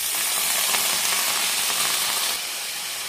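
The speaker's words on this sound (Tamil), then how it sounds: "இப்போ நம்ம அவல் சேர்த்துடலாம்." Red poha is tipped into a hot pan of sautéed ingredients for aval upma, producing a broad steamy hiss and sizzle that holds steady, then eases slightly toward the end.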